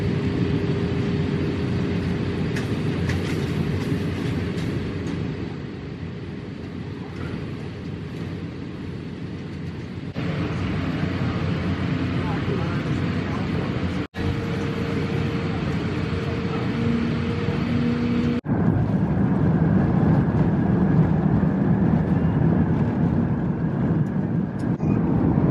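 Steady broadband drone of an airliner cabin in flight, with constant engine and air noise filling the space and a few faint tonal hums shifting over time; quiet chatter may sit under the hum.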